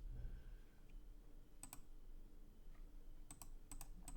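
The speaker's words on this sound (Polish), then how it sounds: "trochę klikam za dużo" Computer keyboard and mouse clicks during an online chess speedrun, arriving in short sharp bursts of a few rapid taps near the end over a steady low background hum.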